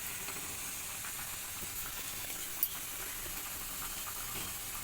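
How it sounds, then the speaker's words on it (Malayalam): Spice powders, including chili powder, frying in a pan for an egg and potato curry, a steady soft hiss and sizzle with no break and one faint tap midway. "ഇത് നമുക്ക് ഇതൊക്കെ ഒന്ന് വറുക്കാം"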